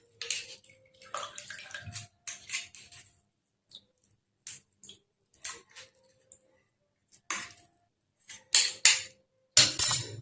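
Soaked oats are rinsed and drained in water, giving sparse, intermittent splashes and trickles with light clinks of a vessel, separated by quiet gaps and growing louder toward the end.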